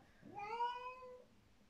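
A cat that is in pain gives one drawn-out, rising-then-falling meow, close and fairly quiet, with no voices over it.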